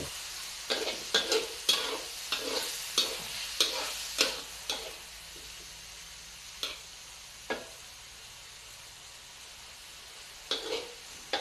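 Food stir-fried in a pan with a banana ingredient: repeated scraping strokes of a spatula and sizzling, clustered in quick bursts then spaced out, close and clear with no talk.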